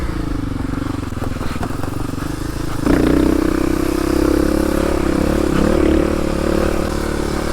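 A motorcycle rides back down a dirt trail, its engine droning close by, then rising louder and higher partway through as it picks up speed over a rough surface.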